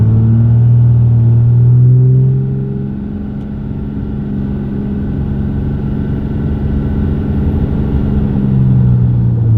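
A car pulls hard up to highway speed with a transmission recently band-adjusted after a long cross-country move, making a loud, steady low engine rumble that rises and falls with the shifts and plays alone without any talk.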